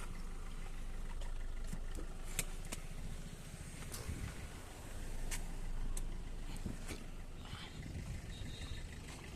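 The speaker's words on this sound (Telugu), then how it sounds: "మీకు ఇంజన్ సౌండ్ చూపిస్తా చూడండి ఒకసారి" A 2017 Maruti Swift Dzire VDI diesel, a used car for sale, idles with a steady, fairly quiet engine hum and a soft broadband rumble, with no one speaking.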